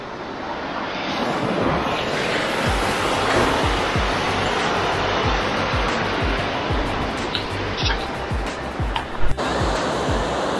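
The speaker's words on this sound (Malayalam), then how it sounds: "അടിയിൽ കൂടെ അടിപൊളിയായിട്ട് വെള്ളം ഒഴുകുന്നുണ്ട്" Glacial meltwater stream rushes beneath a bridge in Johnston Canyon, Canada: a steady, moderately loud broadband flow with a few brief knocks near the end.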